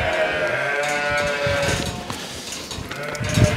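Sheep bleating loudly and close during lambing season, a long drawn-out ewe call at first followed by rustling straw and shuffling movement in a barn pen.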